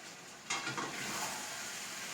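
A spoon stirs Kannur-style beef biryani masala with coriander and mint leaves in a pan, a scrape-and-sizzle sound over a soft steady frying hiss, close and fairly quiet.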